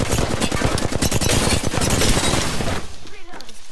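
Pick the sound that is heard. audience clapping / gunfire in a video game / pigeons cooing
gunfire in a video game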